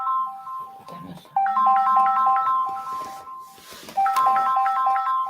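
A phone ringtone plays a bright repeating electronic melody, close and loud, its patterned notes running in phrases with a short break before the tune starts again.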